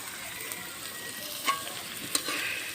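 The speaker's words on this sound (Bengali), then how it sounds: "সরিষার তেলগুলো আমি দিয়ে দেব উপর দিয়ে।" Mustard oil spooned over hilsa fish in a pan, a soft steady sizzle with a couple of sharper crackles and spatters, close but quiet.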